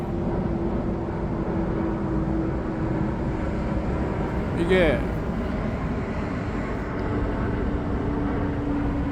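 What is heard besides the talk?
airplane passing overhead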